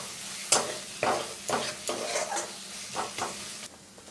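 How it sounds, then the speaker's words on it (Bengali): Spice paste with cumin and chilli powder frying over medium flame for a fish egg curry, stirred in repeated scraping strokes roughly every half second over a continuous sizzle, close and clear with no speech. "মশলাটাকে ভালো করে কষিয়ে নিব।"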